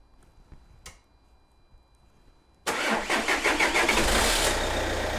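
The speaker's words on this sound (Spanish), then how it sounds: "le digo ahí a mi ayudante que intente arrancar" A car engine cranks and catches with help from an AEG WM15/100A battery charger and jump starter, firing into a loud, steady run after a few seconds of near silence, close by with no talking.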